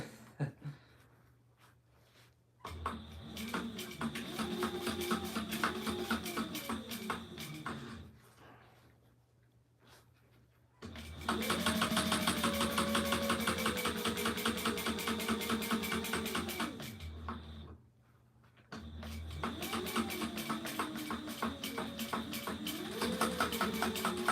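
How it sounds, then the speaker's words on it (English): A sewing machine stitching pockets in three separate runs, each a rapid rhythmic mechanical whir with dense stitching clatter, split by short pauses and heard alone at close range. "We always make 3 passes when we sew these pockets in."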